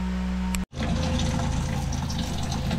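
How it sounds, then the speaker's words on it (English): Tap water running steadily to flush a water heater, a broad continuous rush that stays loud and unbroken apart from a brief dropout near the start. "I'm running the water because I think whoever owned this before, or maybe not even that person, but somebody put vinegar in the water heater."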